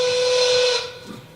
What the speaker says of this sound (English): We have to blow the whistle because the robots don't know when to stop work.